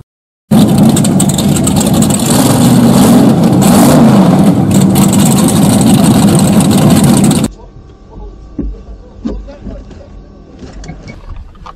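Vintage race car with capacitor discharge ignition, fixed timing and a pair of giant carburettors, revving loudly and steadily up close for about seven seconds before cutting off, leaving faint clatter and background noise.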